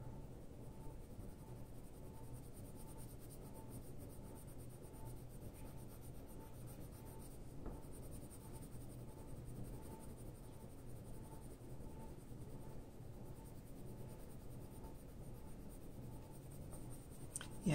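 Steady scratchy rubbing of colored pencil strokes on paper, continuous and close, with faint tonal hum in the background.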